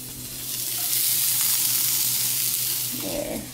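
Food sizzles steadily in a hot pan during one-handed home cooking, a dense continuous frying hiss holding close and even throughout, with a brief rattle of stirring near the end.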